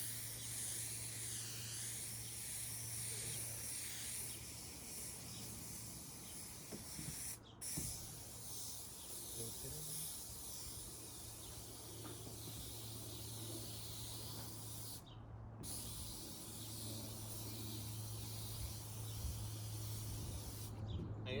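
Spray adhesive hisses steadily from a can for gluing down EPDM rubber roofing, a long continuous close spray with a few brief breaks as the nozzle is released.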